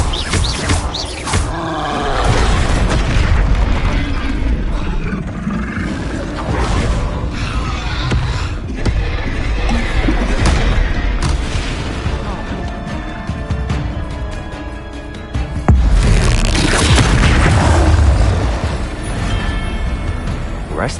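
Spell-casting combat in the Hogwarts Legacy video game, with the Bombarda explosion spell among bursts of loud, dense booms and whooshes that swell and fade, plus a sudden heavy blast late in the sequence.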